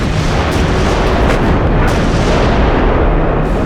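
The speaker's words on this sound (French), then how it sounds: "plus d'1 millier de canons allemands ouvrent le feu sur les positions françaises" More than a thousand German artillery cannons opening fire on French positions around Verdun, a continuous, very loud roar of overlapping booms and blasts with no pauses.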